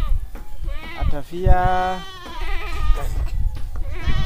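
Goats bleat several times at a roadside rest area, wavering cries close by with a person speaking briefly among them.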